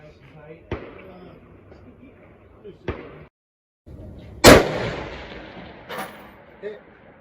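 Rifle shots fired at long-range steel targets out to 1,200 yards, heard as a few sharp reports spaced several seconds apart with one loud, close blast that rings out, over an outdoor background.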